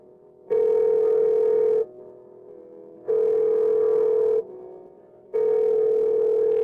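Telephone ringback tone heard while a call is being placed: three steady, clear pulses of about a second and a half each, separated by short silent gaps, with no voices.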